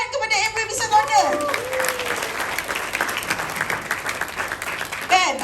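Audience applause at an Amway business gathering, a brisk, lively clapping from a large crowd that swells and holds, with voices calling and chattering over it.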